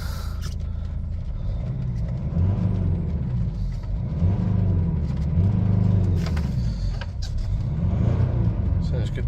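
A Mercedes E250 engine idles steadily just after exhaust gas temperature sensor replacement, a low, even rumble close by with a person talking over it.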